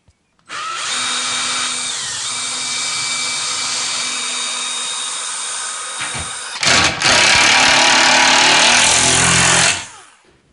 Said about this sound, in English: I need to make sure to take my square here and square it up before I screw in the next one, and make sure to always pre-drill.